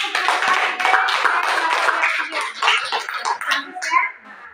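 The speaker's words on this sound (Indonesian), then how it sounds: "Kasih tepuk tangannya." Classroom clapping for a student's speech practice, a brisk patter of several hands close by, with voices talking over it and trailing off near the end.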